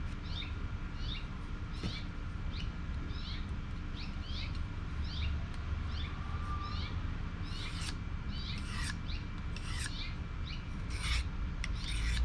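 A FOBOS Tier 1 BC bushcraft knife blade is stropped in a steady series of short, light rasping strokes, evenly spaced, close by and fairly quiet, with a few louder scraping passes toward the end.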